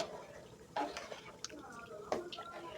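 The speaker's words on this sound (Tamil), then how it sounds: "அரிசியை வாஷ் பண்ணி ஆட் பண்ணிக்கோங்க." Washed rice drops into a cooking pot of water for bisi bele bath, giving two soft splashes with light dripping in between, faint and close.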